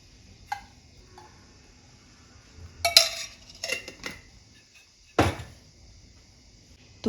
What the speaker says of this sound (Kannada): ಒಂದು ಬಾಣಲಿ ಇಟ್ಕೊಂಡು ಅದಕ್ಕೆ 2 ಟೇಬಲ್ ಸ್ಪೂನ್ ತುಪ್ಪನ ಹಾಕೋತಾ ಇದ್ದೀನಿ